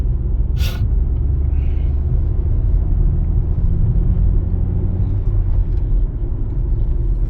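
A car rolls along a road full of potholes, its low engine and tyre rumble loud and continuous, with a short sharp hiss near the start and a few faint knocks.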